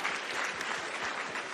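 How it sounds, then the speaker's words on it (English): An audience at a World of Warcraft artist and game-creator Q&A event applauds in a steady, close wash of clapping that lasts throughout. "Round of applause."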